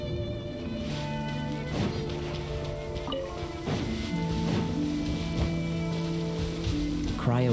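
Steady rainfall in the Genshin Impact game world, a constant wash of drops running through the whole stretch beneath layered game music tones and sharp impact effects, with a voice in the background.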